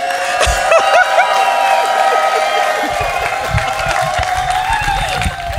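An audience at a lifetime achievement award ceremony applauds and cheers, with a steady wash of clapping, a few whoops and laughs, and a voice speaking over it.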